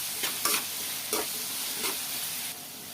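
Curry with onion, potato, turmeric, curry leaves and ginger-garlic paste being stirred in a frying pan, a steady sizzle broken by several scraping strokes of the spoon, close and moderately loud, no voices.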